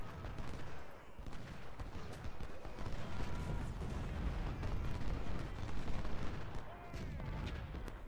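Cannon and musket fire from a Civil War battle at South Mountain in Ultimate General: Civil War rumble as a dense, continuous barrage of booms and crackle, loud throughout.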